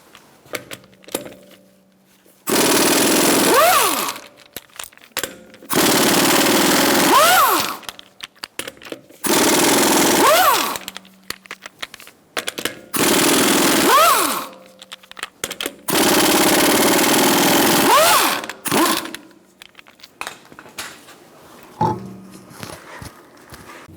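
A pneumatic impact wrench with a 19mm socket removes the wheel from a 2012–2018 Ford Focus 2.0L, firing in five loud, sustained bursts with rising and falling whine, separated by quieter clicks and handling noises.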